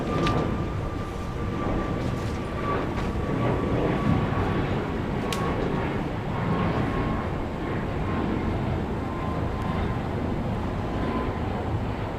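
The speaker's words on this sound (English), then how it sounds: "Looks like another E-Star jet." Eastar Jet airliner at Incheon airport, a steady broadband jet engine roar holding at constant loudness throughout, with a faint whine and a few brief clicks.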